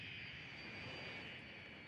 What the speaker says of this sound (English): Cargo airplane.